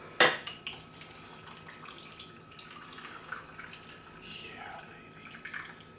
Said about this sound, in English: Fill your glass with ice, and then just take the top part of the lid off. Pour it in there.